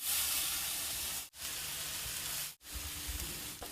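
Pork wings sear on the hot side of a grill, giving a loud, continuous fatty sizzle and hiss that drops out briefly twice before resuming.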